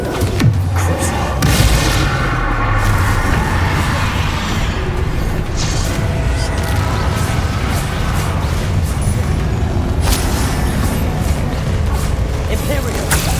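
Repeated Bombarda spell explosions in the Hogwarts Legacy game, with heavy booming blasts continuing through dense, loud combat noise and a spoken voice mixed in.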